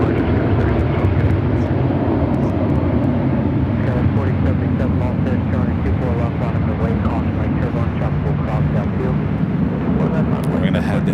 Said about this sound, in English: We're going to head into the Dreamliner now, short final.